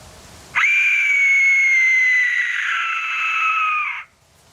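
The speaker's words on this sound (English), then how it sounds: "What you're going to hear is the Aztec death whistle." A piercing, shrill scream-like whistle blasts loudly for about three and a half seconds, holding steady before cutting off abruptly.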